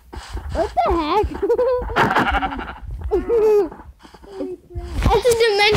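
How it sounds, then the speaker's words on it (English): Sheep bleat loudly and close in a video game horror map, several wavering, quavering calls in a row, with a person talking between them. "I hear a sheep"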